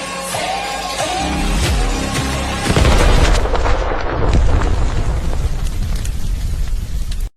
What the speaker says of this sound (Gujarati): બોમ્બ કેવો બ્લાસ્ટ થાય જોઈ શકો છો